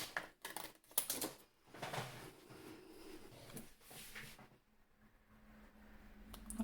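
Precision scissors cutting out a plastic strawberry shape, giving a run of small close snips and crisp clicks with soft rustling of the plastic in between, heard alone in a quiet room.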